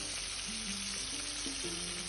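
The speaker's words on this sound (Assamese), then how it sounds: "লাহে লাহে কৰি মাছ কেইপিচ লৰাই দিছোঁ। এয়া মাছ ফ্ৰাই হৈ গ'ল।" Fish pieces fry in hot oil in a pan, giving a steady, close hiss of sizzling that runs unbroken throughout, with low tonal hum in the background and no voices.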